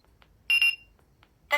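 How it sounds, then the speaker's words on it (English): A talking atomic travel clock sounds its alarm in short, loud electronic beep bursts, separated by gaps of near silence, with faint ticking-like clicks in between. "Alarm will be on at 11 minutes past 2 a.m."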